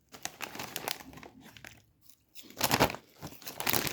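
A cheese-flavoured snack bag crinkling and rustling close by as it is handled and opened, irregular bursts of crackling plastic with a brief quiet gap before a louder crinkling flurry.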